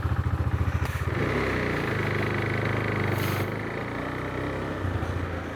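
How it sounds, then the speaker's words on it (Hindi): A motorcycle engine warms up before a long solo highway ride, starting with a rapid chugging idle, then a steady rough running note with a brief rev swell around the middle, close and continuous without talk. "बाइक गर्म नहीं करी थी मैंने, थोड़ी सी गर्म कर लूँ"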